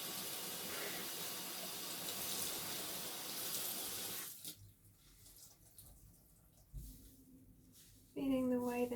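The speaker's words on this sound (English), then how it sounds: "Feeling the way the temperature of the sponge changes when I run warm water through it." Warm tap water runs through a kitchen sponge in a sink, a loud steady rushing stream that cuts off about halfway, leaving quieter wet squelches before a voice begins to speak.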